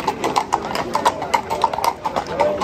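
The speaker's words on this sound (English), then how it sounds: "Even people on horses with little red covers on their ears." Horses with little red ear covers walk through a Tuscan antiques market in Vicopisano, their hooves clip-clopping in a steady, close, crisp rhythm; a voice is heard briefly.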